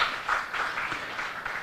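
An audience at a spiritual talk applauds, a steady patter of many hands clapping at moderate volume for a couple of seconds.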